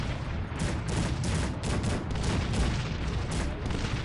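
Rapid, continuous booming bursts of cannon fire, loud and close, from a Cossacks 3 multiplayer battle, with no speech over them.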